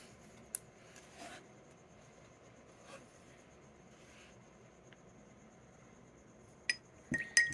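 A spoon clinks against a glass of water while sugar is stirred in, with sparse, light metallic taps: a few isolated ones early on and a quicker cluster near the end, over a quiet room hum.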